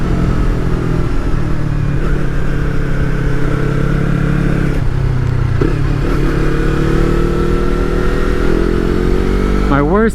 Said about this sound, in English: The sound of the ZX6R is so sexy.